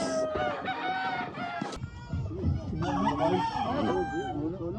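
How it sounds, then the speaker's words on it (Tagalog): A gamefowl rooster at a game farm crows loudly nearby, a long strained call, with clucking fowl and farmyard noise in the background. "Manok yan."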